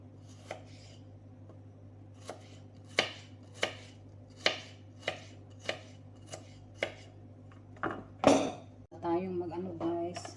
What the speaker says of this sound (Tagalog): maghiwa sa sibuyas guys